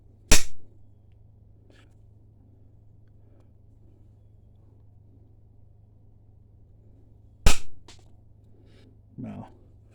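Flintridge flint, raw and water treated, struck to knap off a flake: two sharp, loud cracks about seven seconds apart over a steady low hum, followed by brief faint clicks.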